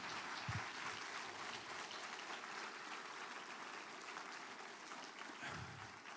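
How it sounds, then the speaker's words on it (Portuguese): Soft, distant audience applause fills a church service, a steady wash of clapping for a team with a faint low thump near the start and end, no voices on top. "vamos aplaudir essa equipe linda aqui"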